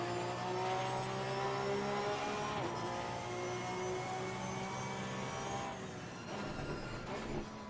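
A Porsche Cup car at full throttle in Assetto Corsa Competizione, a sustained high engine whine with rising and falling harmonic tones that shift as it runs through the Monza pit lane, fairly quiet and steady.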